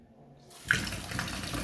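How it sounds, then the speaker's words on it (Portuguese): Water gushes from a gold-plated faucet into a white Celestone sink, starting abruptly and then running steadily, loud and close, with no talking. "Olha essa torneira aqui banhada a ouro."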